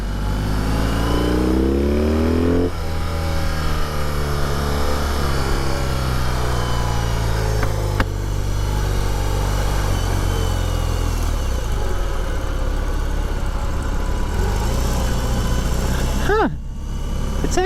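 A 2021 BMW R 18 cruiser motorcycle engine pulls steadily while being ridden. The loud, continuous drone climbs in pitch early, then holds a smooth, even rumble, with a brief dip near the end.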